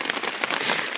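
Rain beginning to fall during a hike near a river, a steady broadband patter of drops on surfaces, close and fairly loud, with a few sharper taps standing out.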